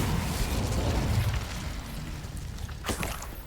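A roaring burst of flame from the Incendio fire spell in Hogwarts Legacy, loud and sustained with a rumbling low end that slowly fades, followed by a brief crackle near the end.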